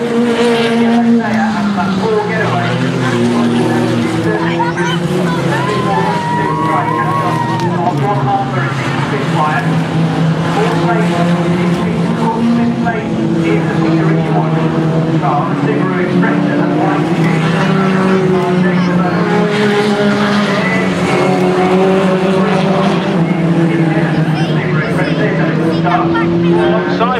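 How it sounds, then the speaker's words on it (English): Saloon race cars corner around a circuit hairpin, engines droning loudly and continuously with shifting revs, while a commentator talks throughout. "Cook goes wide coming out of the hairpin, and that's allowed the Seat back up to the third position now"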